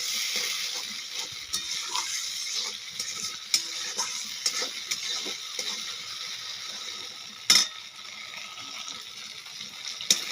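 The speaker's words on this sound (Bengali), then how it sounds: "একটু ভালো করে নেড়ে চেড়ে মশলাটা যতক্ষণ না ভাজা ততক্ষণ নাড়তে হবে, নাহলে লেগে যাবে।" Spices sizzling in hot oil in a pan while being stirred, a steady close hiss broken by scraping clicks of the spoon and one sharper clatter, with no talking.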